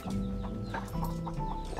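Many chickens, hens and roosters, cluck close by in a lively, overlapping jumble of short calls, a flock heard outdoors at a mountain camp.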